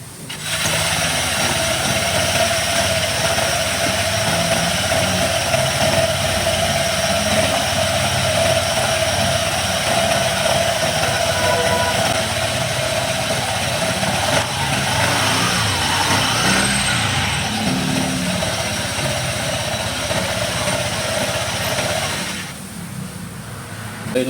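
Honda ADV 160 scooter engine idling steadily with its CVT cover removed, a continuous close mechanical hum and whine that holds even throughout, then cuts off near the end.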